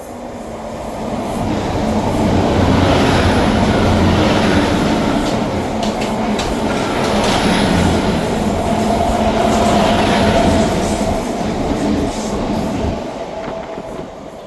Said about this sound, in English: Passing through now is the delayed 1708 LNER service from Aberdeen to London King's Cross.